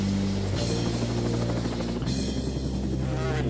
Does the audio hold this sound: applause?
no